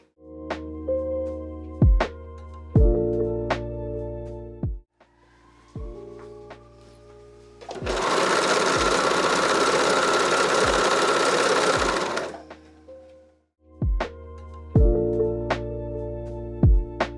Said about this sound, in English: we're going to sew the shoulder seams of the front bodice to the back bodice using a stretch stitch